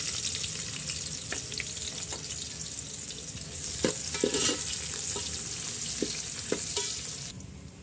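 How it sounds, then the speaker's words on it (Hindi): Chopped onions fry in a pan for chicken biryani, a steady close sizzle with scattered scraping knocks as they are stirred. "प्याज को चलाते हुए अच्छे से फ्राई कर लें।"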